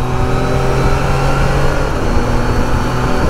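A Can-Am Spyder RT three-wheeled roadster accelerates hard, its engine holding a loud, steady, close drone with harmonic whine and slight pitch shifts as it pulls, with no voices over it.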